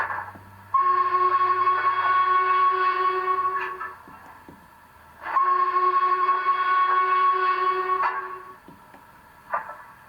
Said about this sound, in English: you listen to the whistle on this